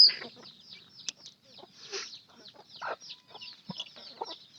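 A tethered mother hen with her growing chicks clucks in short, irregular bursts close by, with soft chick peeps and scratching between calls and no talking.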